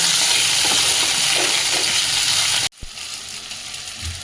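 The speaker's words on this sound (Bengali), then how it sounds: "আমি মাছের মুড়ো কাটা সব এর মধ্যে ভেজে নিচ্ছি" Hilsa fish head frying in hot oil with salt and turmeric, a loud steady sizzle that abruptly drops to a quieter simmer partway through.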